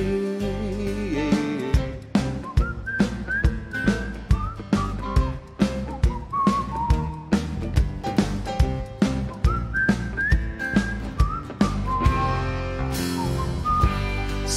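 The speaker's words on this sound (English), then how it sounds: "I'll be whistling my time away" Someone whistles a bright, lilting melody at length over a steady rhythmic beat during a live warm-up music set, the tune rising and falling in clear, sustained phrases.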